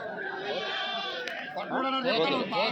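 Goats bleat repeatedly at a busy livestock market, wavering cries overlapping with steady crowd chatter and nearby talking.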